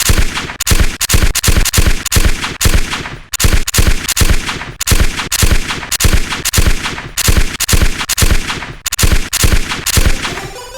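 Loud, close automatic video game gunfire rips out in rapid bursts, with a sharp crack on each shot and brief pauses between volleys.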